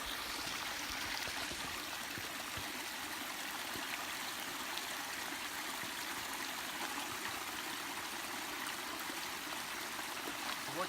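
A mountain stream at a water source high on Mount Moosilauke rushes and trickles steadily, a soft, even wash of flowing water with no voices.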